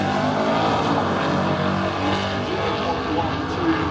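A Holden VK Commodore and a 505 cubic inch Plymouth Satellite drag race, a loud sustained engine roar with a commentator talking over it.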